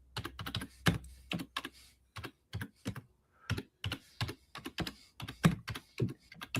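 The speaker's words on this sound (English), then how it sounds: "I'm only typing with one hand" A computer keyboard is typed on with one hand, producing quiet, irregular clicks and taps in uneven clusters with small gaps, close by and without voices.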